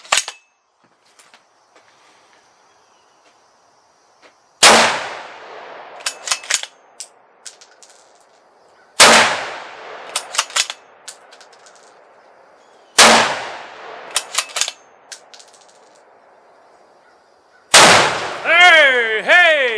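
Four loud rifle shots from a Remington 700 CP fired at a pumpkin outdoors, each a sharp crack followed by a short ringing tail and clatter, spaced about four seconds apart, with a final burst of ringing metallic tones at the end.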